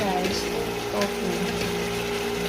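Shrimp and tofu fry in a hot pan with a steady, close sizzle and crackle while cooking pansit miki guisado, with faint stirring and no talk.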